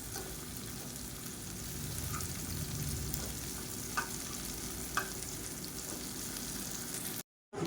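Slices of raw plantain frying in a pan, a soft continuous sizzle with a few light clicks from turning, heard alone and fairly quiet.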